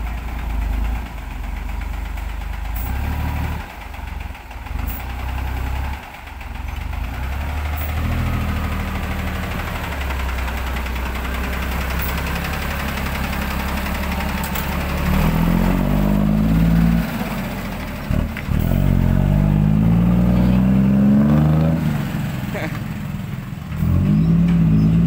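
Three ten-wheeler trucks pull out of mud with heavy diesel engines rumbling loud and close. The engines idle unevenly, then rev and strain harder, with the roar climbing and fluctuating toward the end.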